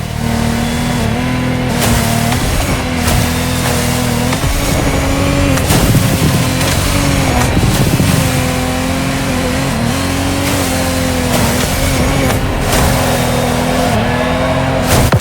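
A Lamborghini Technomar boat engine in The Crew Motorfest game revs hard and loud without a break, its pitch climbing and dipping over water with no talk.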